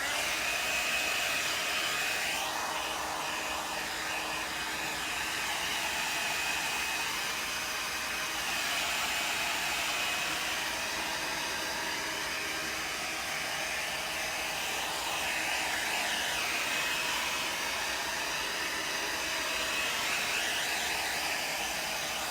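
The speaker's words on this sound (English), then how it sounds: "I'm gonna hit it with the hair dryer, with the paint dryer" A hair dryer blows to dry paint on a desert rose succulent painting, a steady, continuous whooshing hiss held close for over twenty seconds with no break.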